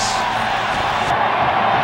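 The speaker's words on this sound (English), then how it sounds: "The crowd cheering as the final 15 seconds count down" A crowd cheering at a 1995 indoor lacrosse game between the Philadelphia Wings and Buffalo Bandits as the final seconds count down, a loud, dense, steady roar of voices filling the arena.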